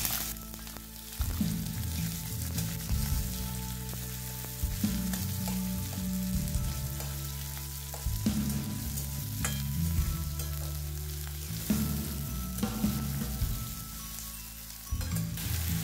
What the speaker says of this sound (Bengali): এতে আমরা দিয়ে দেবো তেজপাতা, অর্ধেকের থেকেও কম দারচিনি আর 3টে লং। এরপর দিয়ে দেবো পেঁয়াজ।